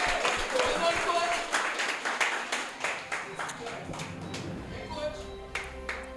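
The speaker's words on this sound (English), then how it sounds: "Ladies and gentlemen, in his absence, a round of applause for Mr." Audience applause at a gala honoring successful student athletes, with scattered, uneven clapping rising and falling over several seconds as voices carry underneath.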